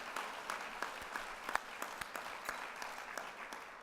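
A convocation audience applauds in a steady, moderately distant wash of many hands clapping, with a few sharper individual claps standing out.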